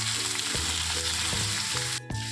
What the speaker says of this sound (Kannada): ಇದು ಈರುಳ್ಳಿ ಎಲ್ಲ ಫ್ರೈ ಆಗ್ತಾ ಇದೆ.